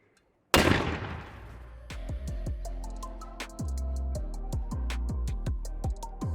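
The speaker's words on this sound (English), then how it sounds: "Liquid nitrogen teddy bear cannon, ladies and gentlemen." A liquid nitrogen cannon fires a teddy bear: a sudden loud blast breaks the silence, followed by a rapid scatter of clattering impacts and bounces as debris lands and rattles.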